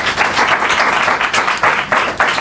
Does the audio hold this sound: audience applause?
yes